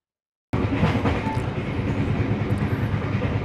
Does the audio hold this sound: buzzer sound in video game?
no